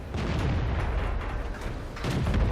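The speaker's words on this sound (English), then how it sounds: "See the artillery hiding up at the back there, and it misses me, but I don't miss it." Heavy artillery gun fire from a tank battle in World of Tanks, a dense, loud rumbling boom that fills the stretch, with a second burst of low thunder near the end.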